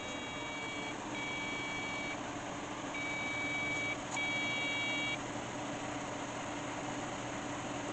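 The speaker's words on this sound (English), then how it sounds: "Oh, we've got a beep." A few short POST beeps from a gaming PC's built-in motherboard speaker, in bursts over a steady low hum of whirring fans.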